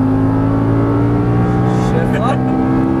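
Audi R8 V10 on a race track, its engine a loud, continuous drone held near steady under throttle, with a voice faintly present over the noise.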